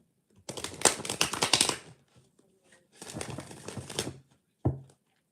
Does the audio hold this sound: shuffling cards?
yes